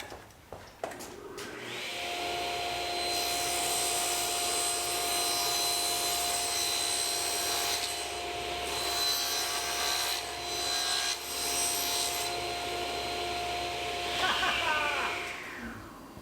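A track saw rips through a full sheet of 3/4 plywood in a workshop, a steady, high whining roar with rough cutting noise lasting about thirteen seconds before spinning down.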